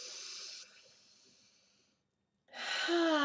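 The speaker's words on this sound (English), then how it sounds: "Take a nice big deep breath. Again, breathe deeply." Close, breathy exhalations trail off into a short silence, and then a deep inhale rushes in loudly during a laughter exercise.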